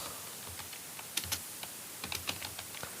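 Rapid, uneven bursts of typing on a computer keyboard while filling in a form on a PC, with close, crisp key clicks and short pauses and no talking.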